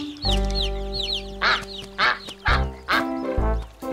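Cartoon ducklings quack in a run of loud, close, bright calls, several short quacks in quick succession over a sustained tonal background.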